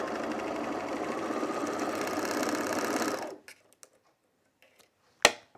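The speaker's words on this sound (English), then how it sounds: "I think that's all the serging we have to do, thankfully." Serger overlock machine sewing jeans, running in a fast continuous whirring hum for about three seconds, then stopping, followed by a few light clicks and one sharp knock, close and alone.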